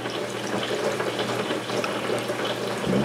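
Pickling liquid for cauliflower pours from a jug into jars in a steady, close trickling stream that continues throughout without speech.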